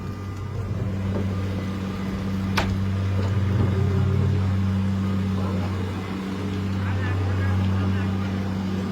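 A steady, loud, low engine drone hauls a fishing trawler up a dock slipway on an iron cable at Kakdwip, holding an even hum throughout with faint background activity.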